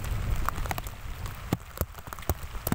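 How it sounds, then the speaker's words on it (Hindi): Heavy rain pours steadily on a village road during the monsoon, a dense hiss with scattered sharp drip and splash hits over a low rumble, fairly close and continuous with no talk. "बारिश अभी आने लग रही है, जोरों पे है"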